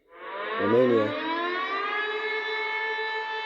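Romanian emergency civil defense siren, a loud electronic wail that rises, wobbles briefly, then holds a steady rich tone, heard alone with no talk.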